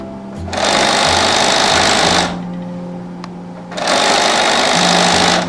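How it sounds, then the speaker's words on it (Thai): Sewing machine stitching fabric for a retro quilted bag, with two loud, steady bursts of fast mechanical running separated by a quieter pause of low motor hum. "เย็บยาวมาเลยนะคะ รึงผ้าที่จะหุ้มเนี่ยค่ะ เอาด้านถูกกับด้านถูกชนกันเย็บ"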